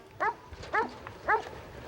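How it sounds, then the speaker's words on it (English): A Huntaway sheepdog working sheep gives three sharp, separate barks, evenly spaced and fairly close, with no talking. "a Huntaway uses their voice and barks to get the sheep to do what they want"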